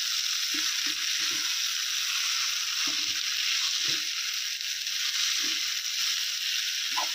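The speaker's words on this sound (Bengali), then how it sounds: "ভালোভাবে এইভাবে চাল এবং মশলা মিক্স করে নেব" Rice and spices fry and get stirred in a kadai for Rajasthani masala rice in a village kitchen: a steady, close, loud sizzle runs throughout, broken by soft scraping and clinking stirs.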